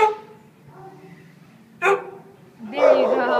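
A small shelter dog at a city animal shelter, wheezing and shaking as he barks, gives a few short, close yips and barks separated by quiet gaps.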